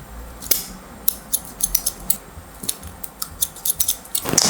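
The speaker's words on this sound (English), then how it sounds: "I'll just cut the fringe down a touch." Scissors trimming a hair fringe during a haircut, a close series of sharp, crisp snips in quick irregular bursts with brief pauses between.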